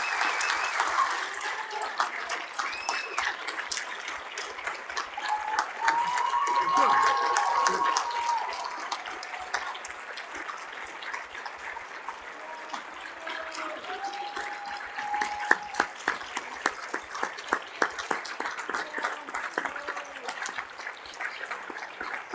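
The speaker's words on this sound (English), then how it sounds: "Let's give Bob a big round of applause" Crowd applause at a 2021 Cushing Academy commencement ceremony, a steady wash of many hands clapping at moderate distance, swelling briefly midway and continuing throughout with no one speaking over it.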